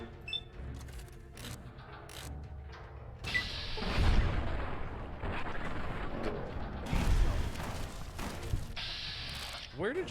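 Grenade explosions in Fallout: New Vegas, with heavy booms that swell twice, near the fourth and seventh seconds, over a busy backdrop of game noise and clatter.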